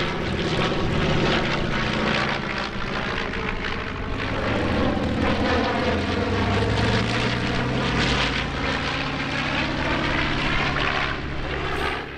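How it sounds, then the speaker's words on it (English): Piston-engined bombers, a B-29 Superfortress and B-25 Mitchells, fly over at the EAA AirVenture Oshkosh 2019 airshow with a loud, continuous propeller drone and engine roar that holds steady throughout. "The largest aircraft in the bomber section was one of the world's two flying B-29 Superfortresses, plus a pair of B-25 Mitchells."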